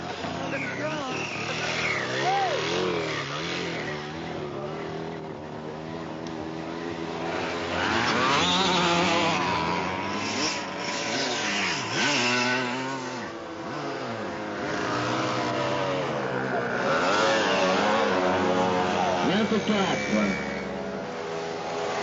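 Solex mopeds race in a 24-hour village event in 1995. Their small engines whine and buzz as they pass continually at varying distances, with shifting pitches. A commentator talks over the racing.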